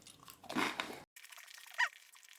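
Crunchy dried fig halves being bitten and chewed, two close crisp crunching bursts separated by a short pause, quiet and alone.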